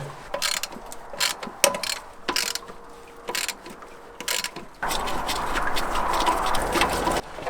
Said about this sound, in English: Let's see if we can break some 10 mils free here.